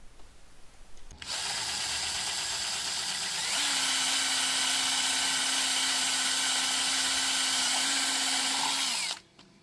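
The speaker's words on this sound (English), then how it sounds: "Using the supplied 1/4 inch drill bit, carefully drill" A power drill with a 1/4-inch bit whirs up to a steady high whine, holds a constant pitch as it bores into a wooden chair leg for several seconds, then cuts off abruptly.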